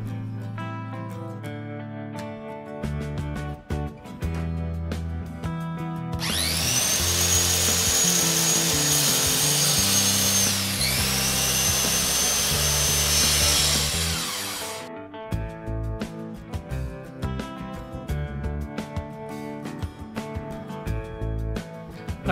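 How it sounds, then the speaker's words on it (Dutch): A fine-toothed saw rasps steadily through wood for several seconds, loud and close, with music playing before and after the cutting. "dus ik doe dat met die zaag met dat fijn blad in"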